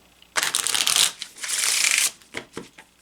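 A deck of playing cards being riffle-shuffled up close, two loud rapid bursts of flicking cards followed by a few soft taps.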